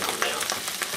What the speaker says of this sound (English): Just want to saute this